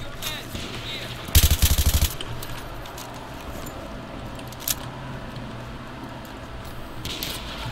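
Auto shotgun fire in Battlefield 3, a rapid burst of about six loud blasts close by, followed later by a single sharp shot amid steady background game noise.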